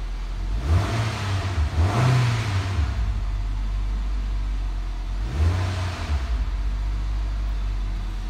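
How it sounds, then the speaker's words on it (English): A 2013 Nissan Altima 2.5 liter engine with CVT automatic, 38,000 miles, on an engine test stand, revved up and dropped back two times, loud and close with no talking. "That's Dings Auto Parts engine test"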